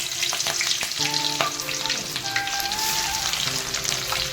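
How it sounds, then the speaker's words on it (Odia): About 500 grams of onions frying in hot oil for biryani, giving a loud, dense, constant sizzle and crackle right up close, with faint tonal clinks under it and no speech. "ତେଲ ଗରମ ହେଇଗଲାଣି, ଆସନ୍ତୁ ପିଆଜ ଫ୍ରାଏ କରିବା"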